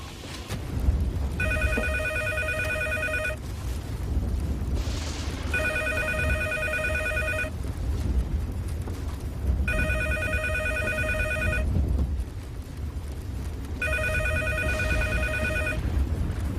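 A telephone rings unanswered in a house during a storm in the movie Twisters, four long electronic ring bursts spaced evenly with pauses between, heard over a steady low rumble of wind and background noise.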